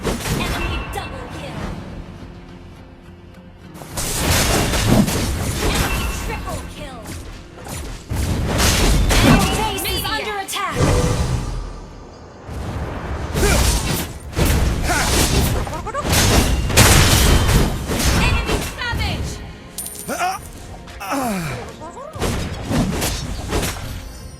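Mobile Legends gameplay fills the scene as a turret comes under attack, with loud booms, thuds, whooshes and clashing skill effects in dense bursts, and an announcer voice speaks over the action.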